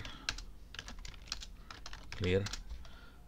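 Fast clacking keystrokes on a computer keyboard, close and continuous with brief pauses, entering a MySQL database login command, while a voice briefly murmurs in the middle.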